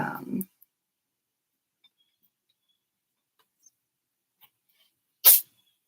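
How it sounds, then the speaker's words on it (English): A cat sneezes once, a sharp, brief burst close by after several seconds of near silence, with a faint snuffle at the very start. "That's a whole lot of cat sneezes"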